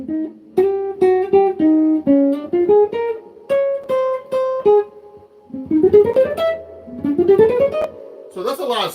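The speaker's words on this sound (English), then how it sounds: "So that melody sounds like this if I'm playing it slow." A slow, unaccompanied jazz guitar melody from a tune, played as clear single notes and short phrases with pauses, ending in rising runs, close and fairly loud with no talking.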